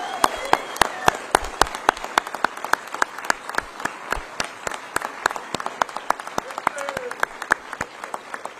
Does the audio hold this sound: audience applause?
yes